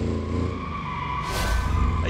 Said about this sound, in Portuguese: Aí canta pneu de tudo quanto é jeito.